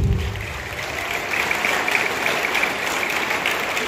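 Audience applauding a guest on stage at a school event in Murshidabad, a dense steady wash of many hands clapping, moderately loud throughout.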